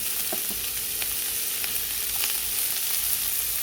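Chopped onion sizzles steadily in a pan over a wood-fired stove with a pinch of turmeric and salt, a close, continuous hiss broken by a few light stirring clicks.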